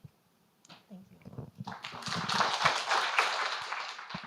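Applause after academic conference presentations, beginning with a few isolated claps and low voices, then building into a steady, moderately loud round of clapping from the audience.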